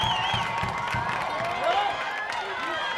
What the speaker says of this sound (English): And East crowd going nuts.